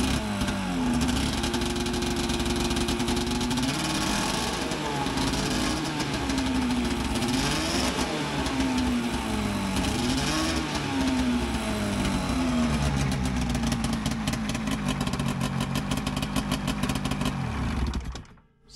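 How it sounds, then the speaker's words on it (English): A Polaris Liberty twin-cylinder engine in a classic trailing-arm Indy snowmobile runs steadily up close, with a loud, continuous two-stroke drone and repeated rising-and-falling blips of throttle before it cuts off at the end. "Sounds like a nice, happy Liberty twin to me."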